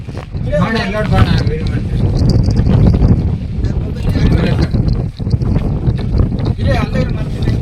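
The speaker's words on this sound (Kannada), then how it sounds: "ಸಿಕ್ಕಾಪಟ್ಟೆ ಗಾಳಿ ಒಂದು ಕಡೆ ಹೊಡಿತೈತೆ" Strong wind buffets the microphone in loud, continuous gusts inside a cave in Chitradurga, with people talking intermittently underneath.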